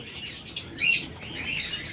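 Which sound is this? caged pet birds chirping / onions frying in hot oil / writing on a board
caged pet birds chirping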